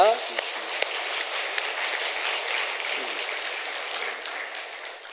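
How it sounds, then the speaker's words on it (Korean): A large church congregation applauds together, a sustained hissing wash of clapping that holds steady, with a brief voice heard at the very start. "영광 받으실 하나님께 우리 영광의 박수를 같이 한번 올려드리십시다"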